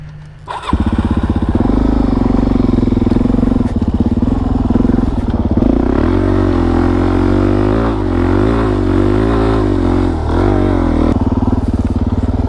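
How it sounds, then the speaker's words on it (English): Suzuki DRZ dirt bike engine revving hard and warbling through donuts and drifts, loud and close, with rising and falling pitch and scrappy clatter throughout. "let's have a fun sesh learning donuts, bro. Learning to drift, learning donuts."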